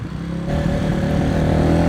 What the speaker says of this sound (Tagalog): ewan ko kung naririnig nyo yung tambucho natin, medyo maingay na siya